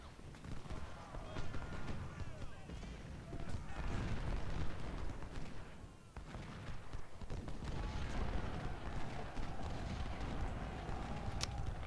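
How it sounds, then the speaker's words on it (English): Artillery fire in a Civil War battle video game, rumbling booms and dense low-end blasts running continuously amid chaotic battle noise, with a brief dip near the middle before the din resumes at full loudness. "Oh, and that artillery's right there."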